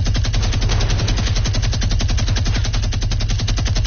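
Rapid automatic gunfire rings out in Fortnite on PS4, a loud, unbroken stream of evenly spaced shots close up with no talking.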